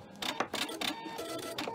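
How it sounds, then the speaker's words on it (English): A sewing machine's built-in thread cutter snips the thread in a quick burst of short mechanical clicks and whirs, close and fairly quiet, with no talk. "I'm going to use my thread cutter to cut my thread."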